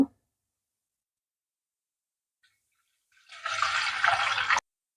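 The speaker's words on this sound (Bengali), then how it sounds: "হাঁড়িতে পানি দিয়ে দেব।" Water poured from a height into a cooking pot for steamed semai pitha, a short splashing fill of about a second that starts after near silence and stops abruptly.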